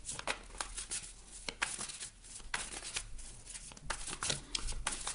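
A deck of tarot cards is shuffled close by, giving a continuous run of quick papery riffles and slaps with no talking.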